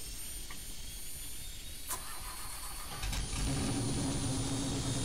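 A helicopter engine cranks and starts up in a VR flight game, a faint whine building into a low, steady mechanical hum, with a click partway through and no talking.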